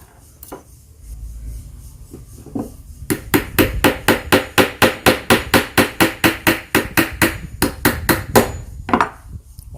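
A small wooden block being split and cracked by a long run of rapid, loud hammer blows, steady sharp knocks close up with no talk, while a threaded-joint release tool is being made.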